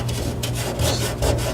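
A hand rubs surface rust off the bare metal of a 1968 Camaro, a close, steady rasping scrape that pulses in short strokes with no voices.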